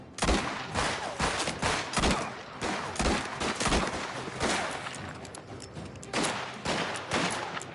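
Loud gunfire in the crime game Mafia: The Old Country, with a dense exchange of rapid shots and bursts in an uneven rhythm that carry on throughout, alone with no talking.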